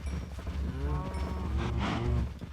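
Minecraft cows moo in a cluster of drawn-out, overlapping lows, close and clear, with no one talking.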